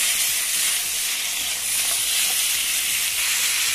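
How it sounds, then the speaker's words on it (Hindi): Boneless chicken shallow-fries in oil in a pan, making a continuous bright, hissing sizzle that stays even and close for a few seconds, with no voices. "अब इसमें हम डालेंगे बोनलेस चिकन और इसको करेंगे फ्राई"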